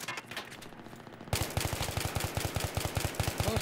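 Rapid automatic gunfire in a video game, a dense burst of loud repeated shots after a brief quieter lead-in.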